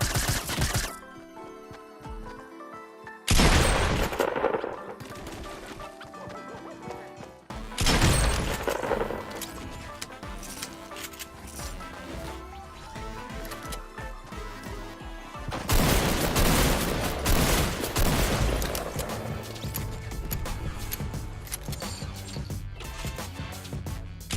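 Shotgun fire in Fortnite, with several loud, sharp blasts spaced apart and followed by ongoing game sounds and clatter.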